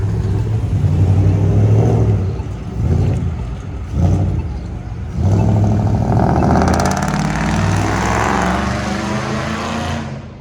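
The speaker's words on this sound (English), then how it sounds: "like 6 more cars coming, new cars" Cars driving past at a car show, loud engines rumbling and revving by in close succession, one surging past after another before fading at the end.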